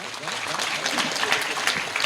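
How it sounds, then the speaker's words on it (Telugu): A congregation clapping at a thanksgiving mass for a newly ordained priest, steady dense applause from many hands throughout, moderately loud in a large room, with some voices mixed in. "ఇంత చక్కగా వందన సమర్పణ చేసిన ఫాదర్ గారికి అందరూ ఒకసారి కరతాళ ధ్వనులతో చప్పట్లు కొడదాం."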